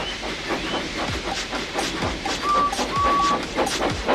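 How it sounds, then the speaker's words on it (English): A steam engine puffs in a regular rhythm, with repeated chuffs and hissing steam, a couple of short whistle-like tones, and light clanking. "So they lit his fire, made lots of steam, and Edward puffed away."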